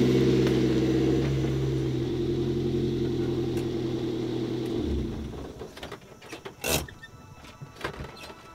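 A car's engine and mechanisms hum steadily as it is parked, a low continuous rumble that cuts off about two-thirds of the way through, followed by a few sharp clicks and clunks.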